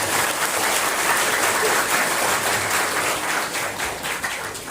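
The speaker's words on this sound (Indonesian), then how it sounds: "Berikan sekali lagi tepuk tangan kepada Bapak Pembina." Audience at a university student orientation event applauding Bapak Pembina, a full, steady round of crowd clapping that fades slightly toward the end.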